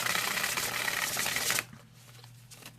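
A deck of Victorian Romantic 3rd Edition playing cards riffle-shuffled close up, a quick buzzing flutter of cards for about a second and a half that stops abruptly, followed by quiet handling.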